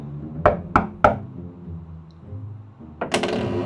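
Three sharp knocks on a door in quick succession, loud and close, followed by a pause and then a louder burst of door or handle noise as it opens.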